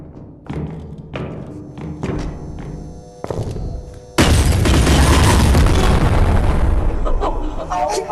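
Rocket launcher blasts in a multiplayer video game: a series of separate booming thumps is followed by one large, loud explosion that keeps roaring on as a dense rumble.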